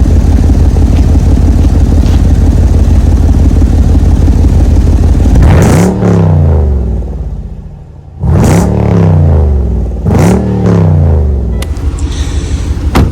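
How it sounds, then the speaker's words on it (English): A Jeep SRT's deep V8 engine idles with a loud rumble, then revs sharply three times, each roar swelling and falling back to a throbbing idle. "I'm gonna give y'all a couple revs."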